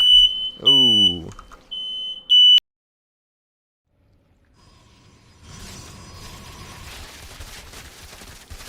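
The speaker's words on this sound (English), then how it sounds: "Fire alarm was going off, so I had to mute the mic." A smoke detector sounds during a StarCraft match stream, giving shrill, steady high beeps in a few bursts at the start, then silence before game sounds and faint background noise return.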